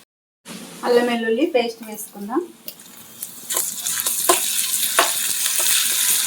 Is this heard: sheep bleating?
no